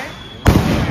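A Diwali rocket firework ignites with a sudden loud whoosh and continues as a steady rushing hiss, close by and dominating the scene.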